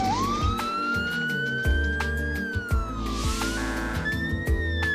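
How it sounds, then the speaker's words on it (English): A Toronto police car siren wails loudly and close as it approaches an intersection, its pitch sweeping up and down continuously, with a steady engine rumble beneath. "As the police car approaches this intersection"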